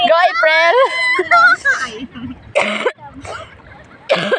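A woman on a beach clears her throat and coughs in short rough bursts, mixed with voiced sounds and talk nearby.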